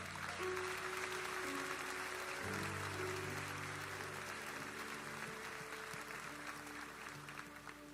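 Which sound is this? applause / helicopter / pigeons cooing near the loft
applause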